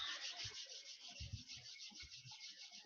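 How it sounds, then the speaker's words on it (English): Palms rub slowly together during a guided meditation, producing a soft, close, continuous brushing with gentle swells in pressure. "Slowly rub your hands."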